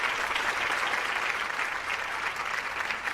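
A studio audience at a televised courtroom-style talk show applauds steadily, a dense even wash of clapping that holds at a constant level throughout, with no talk over it.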